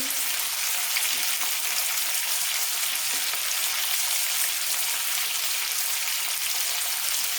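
Cauliflower pieces fry in oil in a kadai over a lowered gas flame, giving a steady, close sizzle that holds even throughout.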